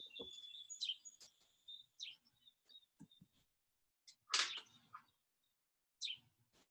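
Birds singing in a quiet backyard, scattered thin high chirps and tweets with bright whistled trills, one burst louder and nearer, separated by silent gaps.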